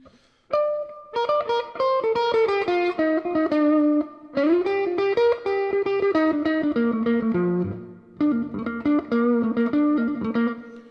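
Electric guitar played through a Bugera Infinium 5-watt amp with an 8-inch speaker, drive cranked up and volume low, ringing out distorted chords and melodic phrases in three loud bursts with brief gaps, alone and without talk.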